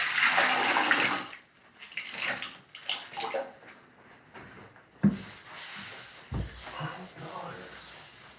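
Water sloshes and pours out of a container during bathroom cleaning, with a loud rush at first, then intermittent splashes, scrubbing and a couple of sharp knocks as the water is changed.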